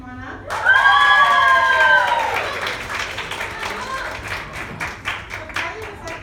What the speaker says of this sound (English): good job, everyone. Good round of applause.